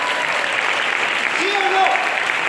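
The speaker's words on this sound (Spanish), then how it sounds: "Dale un aplauso al Señor." Steady applause from a church congregation fills the whole stretch, dense and even, with a faint voice briefly rising above it.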